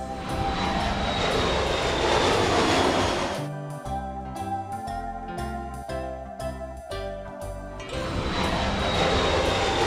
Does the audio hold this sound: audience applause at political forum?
no